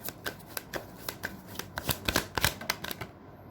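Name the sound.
shuffling and drawing tarot cards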